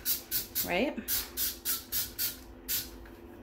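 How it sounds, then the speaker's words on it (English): Spray bottle of cleaner squirting onto a bathtub in a rapid series of about ten short, sharp hissing bursts, close up, with a brief voice partway through. "Okay, I'm gonna spray this here"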